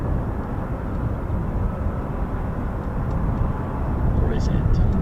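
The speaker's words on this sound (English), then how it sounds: "I think I can hear another aircraft spooling in the distance" Distant aircraft jet engines, likely CFM International, spool up at an air force base during heavy-jet operations, a broad steady roar that slowly grows louder while someone speaks.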